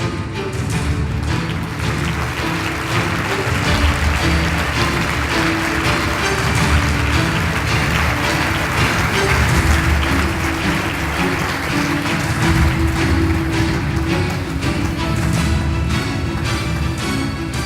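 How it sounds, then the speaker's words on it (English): An audience at a healthcare innovation event applauds panelists onto the stage, a sustained, even wash of clapping lasting well over fifteen seconds beneath music or room noise. "A warm round of applause, please."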